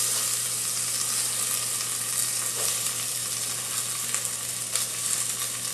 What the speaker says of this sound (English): you start off with a little butter in the pot, and then you add your diced onions